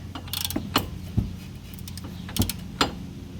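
Tightening bolts on the wheel hub assembly of a 2003 Chevy Trailblazer during a wheel bearing replacement: a handful of separate metallic clicks and clunks from a hand tool, close by, spaced irregularly.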